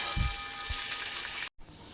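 Onion and prawns sizzle in a pan, a steady bright frying hiss with a couple of soft low thumps near the start, ending abruptly in a brief silence before the sizzle resumes faintly.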